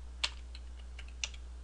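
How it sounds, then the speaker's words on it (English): Typing on a computer keyboard at a desk: a few sparse, quiet key clicks at irregular moments, with a steady low hum underneath. "now I can start typing"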